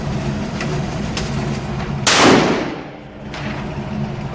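A single loud, sharp gunshot from a pump-action shotgun cracks out near the middle, with a brief echoing tail fading over the next second against a steady outdoor background.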